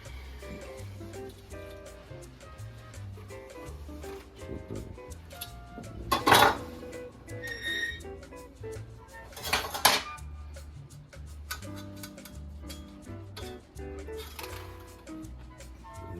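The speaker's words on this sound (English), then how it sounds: "go with the spatula underneath there to break it away from the" A metal spatula works under a pan of fudgy chocolate brownies, giving soft scraping and a few sharp clinks against the baking pan, quiet and close.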